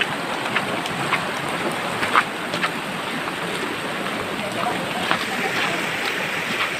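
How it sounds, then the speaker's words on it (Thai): Steady rain pours down near the Thai-Lao border in a dense, continuous hiss with scattered heavier drops pattering on surfaces, no voices. "บรรยากาศของฝนตกนะครับ"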